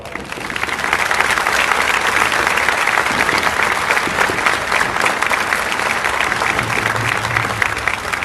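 Congregation applause at a New Year's Day bishop's Mass in a church, a loud, sustained wash of clapping from a large crowd lasting several seconds.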